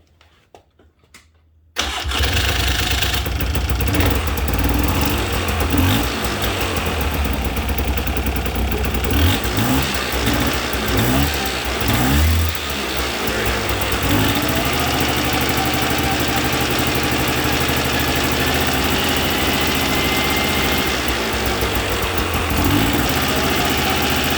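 A 1994 Polaris 400L 4x4 ATV engine with a bent shaft starts after a brief quiet moment, then runs loud and steady with a rough, throbbing drone for the rest of the clip.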